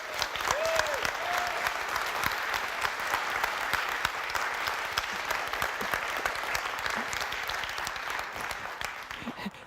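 An audience at a tech innovation summit claps steadily to vote for a winning pitch, a dense continuous wash of applause with scattered cheers, moderately loud and unbroken for nearly ten seconds.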